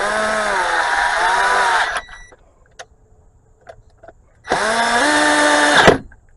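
Power drill tightening bolts on a 2013 Dodge Journey oil cooler/filter housing, two loud close bursts of whirring motor separated by a pause with small clicks, the second ending in a sharp seating jolt.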